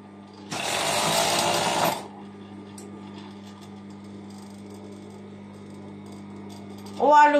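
A sewing machine stitching the leg seams of pajamas runs in one loud close burst of about a second and a half, then stops; a quiet hum and faint clicks follow.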